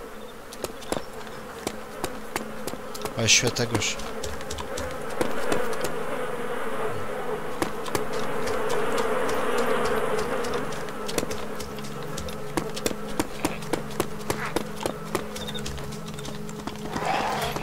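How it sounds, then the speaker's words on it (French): Flies buzz steadily around a mass grave in the game DayZ, a continuous droning hum with sharp clicking ticks scattered over it, while someone speaks briefly. "Bon, déjà, il y a des mouches."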